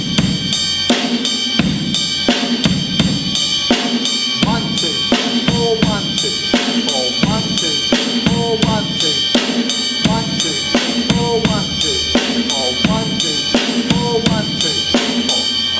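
Slow, steady drum beat played on bass drum and snare with a ride cymbal keeping time, each hit loud and close in a repeating pattern, the cymbal's shimmer ringing continuously throughout.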